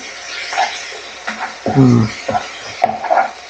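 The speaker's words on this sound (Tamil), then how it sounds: "தக்காளியை போட்டு நல்லா கிண்டி வச்சுக்கலாம்" Chopped tomatoes stirred in a metal pan for a cauliflower curry, with a spoon scraping and clinking against the pan over a faint sizzle while a person talks.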